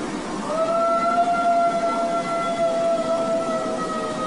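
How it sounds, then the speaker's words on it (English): Eerie, drawn-out wailing howl at night, thought to come from an old dog, a thin sustained tone that rises slightly and holds steadily for several seconds over a rough, noisy background. "I'm wondering if this was just a really old dog trying to howl"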